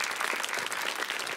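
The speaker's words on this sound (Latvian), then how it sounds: "Aplausi!" Audience applause at a science competition final, with dense, even clapping from a crowd that holds a steady level from start to finish.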